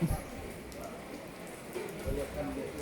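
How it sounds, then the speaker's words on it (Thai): Steady rain falls over an open-sided temple kitchen area in Nakhon Phanom, Thailand, a soft continuous hiss of drops on surfaces with a few louder patters, fairly close and alone. "ฝนตกตั้งแต่นู้นนะครับเจ็ดโมงกว่าแปดโมงนะครับ จากนั้นมาก็ตกมาตลอดเลยนะครับ"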